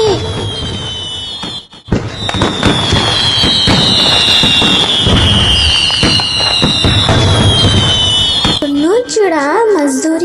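Cartoon Diwali fireworks and firecrackers go off in a jungle celebration: whistling rockets, sharp crackling bursts and pops pile up loudly for several seconds, then give way to chirpy tonal sounds at the end.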